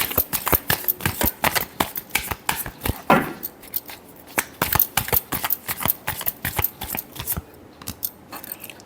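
Tarot cards are shuffled by hand in a fast run of crisp riffling clicks and flutters, near and alone, with a brief denser burst partway through.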